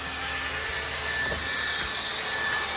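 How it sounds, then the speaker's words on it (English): A buffer working like a rough sander cleans and polishes dirt off handcrafted log stair stringers for a Montana log lodge, giving a steady broad rubbing hiss with a low motor drone that swells slightly halfway through. "He's cleaning them up with a buffer."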